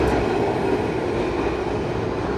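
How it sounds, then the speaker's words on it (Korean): A nearly 100-year-old tram rattles through the streets of Milan with a loud, steady rumbling clatter of wheels on rails, heard close and continuous. "만들어진 지 100년이 다 되어가는 전차가 아직도 덜컹거리며 다니는 곳"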